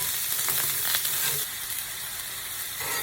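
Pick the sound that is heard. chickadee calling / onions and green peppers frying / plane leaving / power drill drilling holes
onions and green peppers frying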